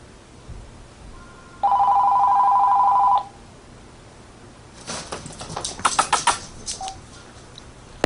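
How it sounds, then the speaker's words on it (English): A telephone rings in one sustained electronic burst of about a second and a half, loud and close, followed by a few seconds of quiet rustling and handling clatter. "If that was my phone, I don't know whose phone that was."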